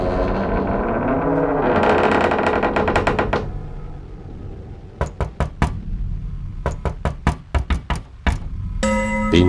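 Sharp knocks sound on a door in an Indonesian horror film, coming in quick clustered bursts of several raps each after a fading loud tone, close and echoing with an eerie processed edge.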